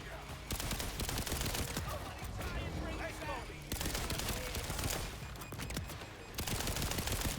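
Rapid pistol fire from a Jakobs pistol in the shooter game Borderlands 4, bursts of sharp, closely spaced shots in several runs broken by brief pauses, fairly loud and dominant.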